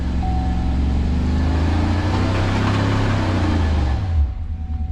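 A pickup truck with traction control off and brakes held spins its rear tires to lower the back end, a loud steady engine roar with tire noise that runs unbroken for about four seconds and then cuts off.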